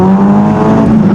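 A Caterham SuperSport race car's engine roars close and loud at the race start at Sepang Circuit, a sustained high-revving drone.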